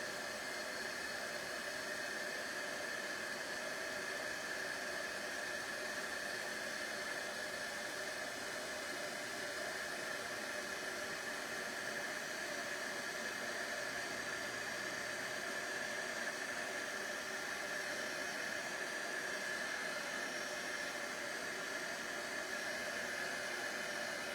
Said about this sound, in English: So I'm now going to heat the embossing powder.